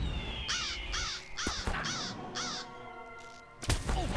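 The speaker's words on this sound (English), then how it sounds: "we've got some birds to worry about" Crows caw five times in a steady rhythm within the Skirmisher of Middle-earth video game, loud and close over ambient game sounds with some clattering effects, no speech.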